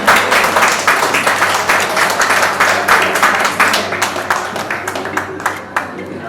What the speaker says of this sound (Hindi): एक बार जोरदार ताली मारि अहाँ सब।